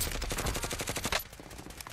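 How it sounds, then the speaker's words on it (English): Rapid gunfire from a shotgun duel in the Warzone gulag, a quick loud string of shots packed close together, cutting off abruptly partway through into quieter background noise. "I can't stand having to use this shotgun in the gulag."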